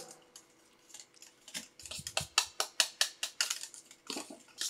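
A spoon clinks and scrapes against a bowl in a steady run of sharp taps while stirring a thick milk powder and water mixture for homemade paneer, close up with no voices.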